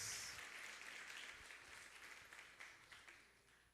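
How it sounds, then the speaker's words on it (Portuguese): Congregation in a church service applauding together, a steady wash of many hands clapping that starts loud and gradually tapers off, with no talk over it. "Vamos aplaudir o Senhor pela vida dos nossos irmãos"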